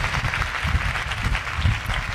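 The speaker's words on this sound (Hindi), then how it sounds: "उसके जलाल के लिए जोरदार तालियां बजे।" A church congregation claps together, a dense patter of hands that rises and falls in waves and carries on throughout.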